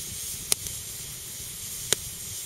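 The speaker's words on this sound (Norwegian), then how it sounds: "Du ser på den ene stokken som er rett ved her, så koker det vann ut av stokken." Water hissing as it boils out of a damp log on a mountain campfire, a soft continuous steamy hiss with two sharp crackling pops from the burning wood.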